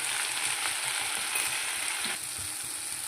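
Curry leaves sizzle in hot oil along with athalakkai (small bitter gourd), a steady close frying hiss that holds for a few seconds and dips slightly near the end.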